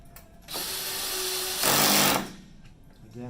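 A power drill with a clutch drives screws into a Zebra MC9300 bracket and cradle, giving a close, loud high-pitched whir in two bursts, the second louder, with a brief lull between.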